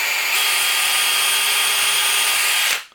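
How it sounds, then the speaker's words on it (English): A power drill bores pilot holes into wooden dowels, making a steady, loud whine that holds for a few seconds before cutting off. "I'm going to go through and pre-drill all these"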